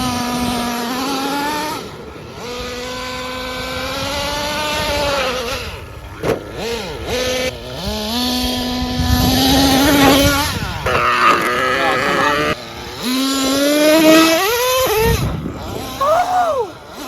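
Traxxas T-Maxx 3.3 nitro RC car engine revving and buzzing, rising and falling in pitch as the truck speeds, jumps and lands outdoors, loud and close with brief drops in throttle.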